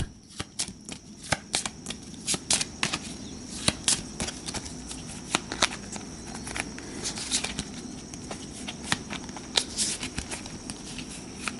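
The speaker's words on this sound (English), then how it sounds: "Then we shuffle up the boss's deck, hopefully getting that Voltling near the top." A boss deck of cards for the Astro Knights board game is shuffled at close range, producing repeated crisp riffles and taps in uneven bursts across the whole stretch.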